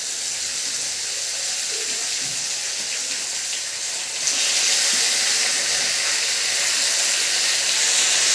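Chicken dropped into sautéed onion-tomato masala in a pan, giving a steady bright hiss of sizzling that swells noticeably louder partway through and stays continuous to the end, no talking.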